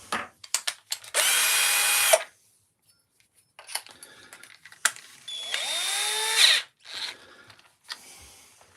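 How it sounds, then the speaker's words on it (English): A power drill boring a hole in a wooden pole whirs in two bursts, a steady high whine, then a second run with rising pitch, separated by quiet handling clicks and knocks nearby. "I've got to try and drill this straight,"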